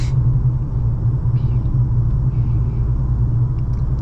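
A car with a 5.7 Hemi engine cruising under normal driving, heard as a steady, loud low rumble of engine and road noise from inside, continuous and without gaps throughout.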